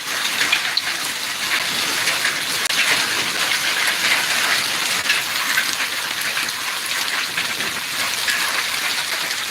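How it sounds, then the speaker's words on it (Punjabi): Heavy hail with rain hammers down hard in the village of Rajia. A loud, unbroken roar of pelting stones with crisp hits throughout, close by. No talking. "ਗੋਲੀ ਵਾਂਗ ਵੱਜ ਰਹੇ ਨੇ ਬਾਈ ਗੜੇ ਗੋਲੀ ਵਾਂਗ"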